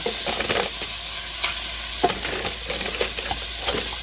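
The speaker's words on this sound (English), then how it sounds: "I'm gonna take my time and add the crab little by little and see how much the pot will hold." Crab pieces, belly, claw and toe, are added bit by bit to a pot of Jamaican curry crab, sizzling with a loud steady hiss broken by crackles and clanks of stirring.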